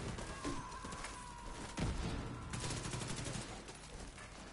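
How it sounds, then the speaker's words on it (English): Grenade launcher fire and gunfire in the shooter game Division 2: a dense, continuous barrage of shots and blasts, loud and close, with one heavier thump in the middle. "he's chucking his noob tubing grenades in here"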